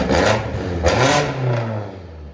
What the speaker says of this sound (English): You can see the turbos right away. You hear them right away.